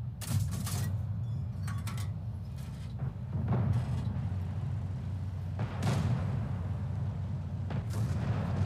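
A tank cannon fires in the World of Tanks video game, heard as several heavy booms spaced seconds apart over a constant low engine rumble, with crackling impact sounds in between.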